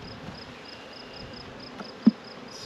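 Bees hum in a hive holding a swarm and chalkbrood, a faint steady buzzing heard close with one brief sharp knock partway through.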